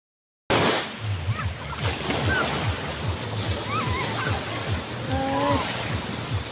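Rough sea waves at Tondaligan Beach in Dagupan City, a continuous loud wash of surf and splashing close by, with people talking and calling out over it.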